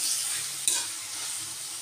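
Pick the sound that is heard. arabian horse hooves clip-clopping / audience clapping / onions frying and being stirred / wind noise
onions frying and being stirred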